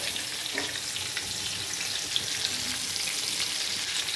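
Fish frying in plenty of hot oil in a pan, a steady close crackling sizzle that runs without a break and has no voices over it.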